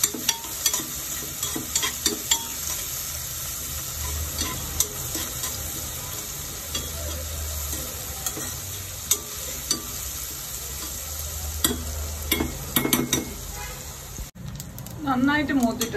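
A handful of shallots fry in a pan for kalathappam, a dense crackling sizzle with frequent sharp stirring scrapes throughout and a voice briefly heard near the end.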